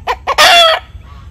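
California White chickens give two short, sharp clucks, then a louder drawn-out squawk, close by with a quiet pen in the background.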